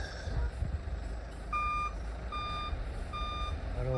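A truck reverses around a bend on a green mountain road between La Paz and Cochabamba, its steady repeating beeps sounding over a low engine rumble at moderate distance.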